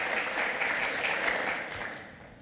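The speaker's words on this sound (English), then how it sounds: "So could we just thank Susan and give her our applause?" An audience at a military aviation spouses' conference session claps in sustained, dense applause that holds steady and then fades toward the end, with no talking over it.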